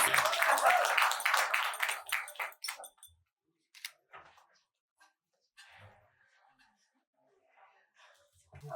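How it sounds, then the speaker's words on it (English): An awards event audience applauds, a burst of dense clapping for about three seconds that quickly dies away, leaving a few faint scattered claps and quiet room sounds. "Come on, guys, a big round of applause, please."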